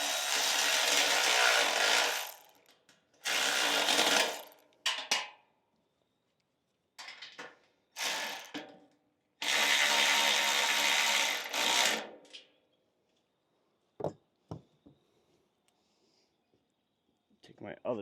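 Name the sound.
tightening bolts and nuts on clay thrower assembly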